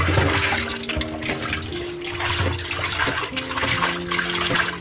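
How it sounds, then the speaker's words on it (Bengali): Running tap water splashing steadily into a pot or bowl while dal lentils are rinsed in a home kitchen, a continuous close rushing stream with small shifts in the splashing. "এখন ডালটাও ধুয়ে নিব।"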